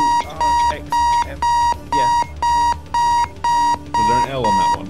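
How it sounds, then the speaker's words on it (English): Alarm clock in the bomb-defusal game Keep Talking and Nobody Explodes, a loud electronic beep repeating in about ten even bursts, with people talking over it. "This fucking alarm's going off again."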